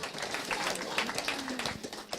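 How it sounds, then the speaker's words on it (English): Audience clapping at a live music event, a brief dense patter of applause lasting a couple of seconds at moderate loudness. "Y'all can clap, man."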